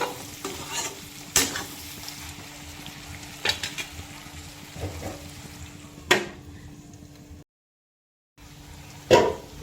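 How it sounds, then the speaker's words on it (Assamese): Onions with ginger-garlic paste sizzle steadily in a pan while a spoon stirs and scrapes now and then, with a brief silent gap near the end. "এতিয়া অলপ সময়ৰ কাৰণে এনেকৈ ভাজি ল'ম যাতে পিঁয়াজখিনি ভালকৈ সিজি যায়"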